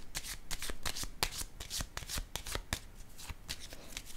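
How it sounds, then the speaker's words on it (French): Tarot cards are shuffled and handled in a quick run of crisp riffling flicks and soft snaps, close and fairly quiet, with no one speaking over it. "Là, je vais déposer une carte entre ces deux-là."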